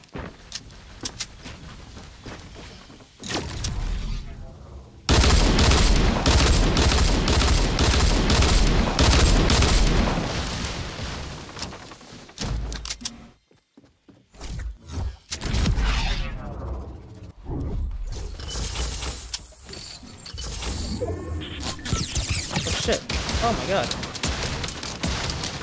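Rapid bursts of dual-pistol gunfire in Fortnite Battle Royale crackle loud and close in dense volleys, broken by a short lull and then renewed shooting, with players talking over the fire.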